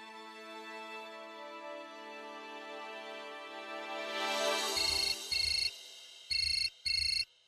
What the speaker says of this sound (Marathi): अहो फोन वाजतोय.